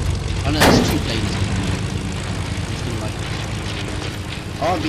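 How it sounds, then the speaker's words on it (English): Propeller airplanes droning overhead in Fortnite, a steady engine hum with a brief louder burst near the start, heard under players talking. "Oh no, there's two planes."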